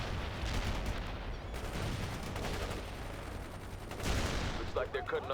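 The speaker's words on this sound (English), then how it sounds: "They're firing at us." Dense gunfire and explosions rumble continuously in the video game World in Conflict, a heavy, chaotic battle din with a louder blast near the end and faint radio-style voices mixed in.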